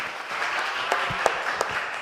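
A small audience applauds a guest at an event, giving a short, moderate patter of clapping heard from a room.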